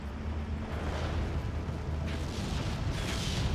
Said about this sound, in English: The mortars and the artillery.